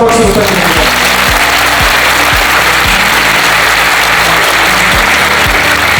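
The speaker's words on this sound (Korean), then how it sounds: "여러분 다시 한번 박수 부탁드립니다." Loud, dense applause from a large audience at a lecture for new civil service officers, sustained for several seconds with a steady wash of clapping and a few low thumps.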